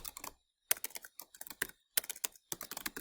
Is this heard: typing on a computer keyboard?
yes